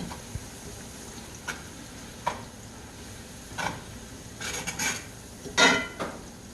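Asparagus is stirred in oil in an iron skillet, a utensil scraping and clinking against the pan in faint, scattered strokes over a low sizzle.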